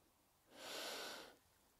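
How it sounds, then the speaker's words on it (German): A person drawing one deep breath in through the nose during a relaxation exercise, a single smooth, airy inhale swelling and fading in about a second, close and alone. "Wir atmen wieder zusammen ein,"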